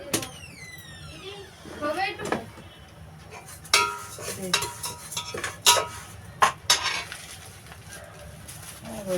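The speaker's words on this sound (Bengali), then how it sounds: "চালটা একটু ভেজে নেব" A spoon or spatula scrapes and clinks against a pan while Gobindobhog rice is stirred and fried, irregular close metallic knocks and scrapes mixed with someone talking and birds chirping faintly behind.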